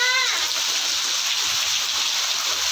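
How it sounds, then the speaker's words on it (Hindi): Heavy rain falls steadily over farmland with crops, a dense, continuous hiss that fills the whole moment without letup. "जोरदार बारिश आ गई।"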